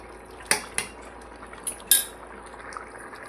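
A spoon clinks and scrapes against a metal pot while masala khichdi with coriander is stirred, a few sharp close knocks over quiet background.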